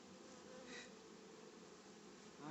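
Honeybees hum in a continuous, close, steady buzz while being installed into a hive, with individual bees drifting nearer and louder now and then.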